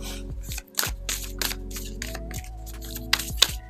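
Oracle cards shuffled by hand in a continuous run of close, crisp riffling and slapping, with irregular sharp clicks and no talking.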